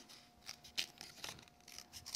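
A few crisp scissor snips through paper, short and close, spaced irregularly over a quiet background.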